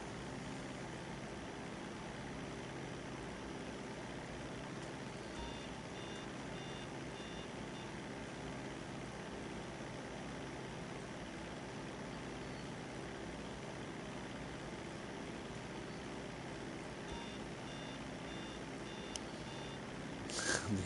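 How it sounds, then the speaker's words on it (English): A vehicle reversing alarm in GTA Online beeps in short repeated runs of rapid tones, faint and distant, over a steady engine-like drone and background hum. "The alarm is so annoying."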